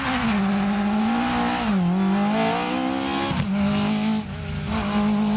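A rally car accelerates hard away from the start line on a stage, its engine droning loud and close and rising through the gears with brief dips at each shift, alone without voices.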